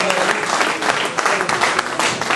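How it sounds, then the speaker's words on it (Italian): Loud, close applause from a crowd at the opening of a new boxing gym, dense clapping that carries on steadily for a couple of seconds. "facciamo un applauso a tutti i ragazzi"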